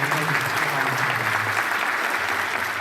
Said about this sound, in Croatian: jednim velikim aplauzom pozdravimo te naše prvašiće